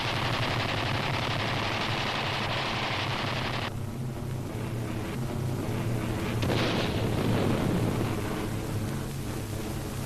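WWII A-36 fighter bomber diving with machine gun strafing, heard as a dense continuous roar of engine and rapid gunfire, loud throughout with a shift in tone midway and a swelling rumble later.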